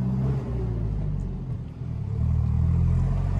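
A car engine drones steadily while driving along a road, dipping briefly then swelling as it pulls out to overtake, a low continuous rumble with no voices.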